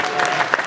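Applause from an audience at a political debate evening, a short dense patter of clapping that sounds close and steady with no voices over it.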